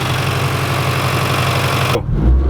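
A Hyundai Veloster N with a new catalytic converter idles close by, a steady, even engine hum, and then a sudden deeper surge near the end.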